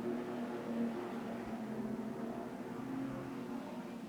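Street stock cars racing at Collie after a restart in a B main state title race, engines droning steadily at a distance with a continuous whirring roar and no voices.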